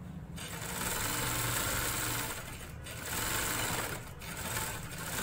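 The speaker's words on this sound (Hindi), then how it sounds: "देखें आयरन किए हुए कपड़े में सिलाई करना बहुत इजी होती है।" A sewing machine stitches ironed trouser fabric in a steady, fast, close mechanical chatter that runs almost continuously and eases only briefly twice, with no voices.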